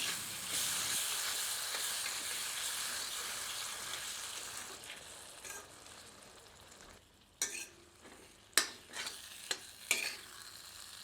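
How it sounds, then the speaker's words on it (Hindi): Chopped tomato being mixed into sizzling egg masala in a pan: a hissing fry fades gradually, then several sharp, loud utensil knocks and scrapes sound near the end. "अब इसमें बारीक कटा हुआ टमाटर सम्मिलित करते हैं। सबको अच्छी तरह मिला देते हैं।"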